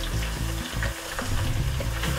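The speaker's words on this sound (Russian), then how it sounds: "Аккуратно их перемешиваем и слегка обжариваем." Vegetables fry over meat in a pot of plov while they are stirred, giving a loud, dense sizzle close by with uneven scraping and stirring bumps.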